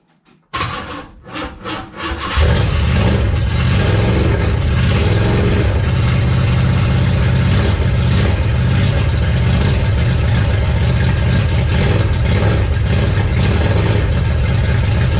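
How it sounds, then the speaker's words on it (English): A Mustang with a crate engine fires up inside an enclosed garage after a few brief cranking bursts, then settles into a steady, loud, dense exhaust roar that fills the space and holds unchanged to the end. "I'll start it up for you so you can hear the exhaust."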